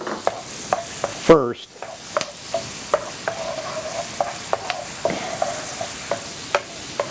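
Sweet onions and minced garlic sauté in a pan, stirred with repeated sharp utensil clicks and scrapes over a steady low sizzle, close and fairly loud, with one louder clatter early on.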